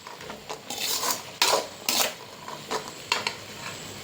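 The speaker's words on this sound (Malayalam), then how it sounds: "മാഗി ക്യൂബ്സ് ഒന്ന് അലിയാൻ ഇളക്കി കൊടുക്കുക" A spoon scrapes and clanks against a cooking pan as Maggi cubes are stirred in to dissolve, giving irregular metallic strokes over a faint background sizzle.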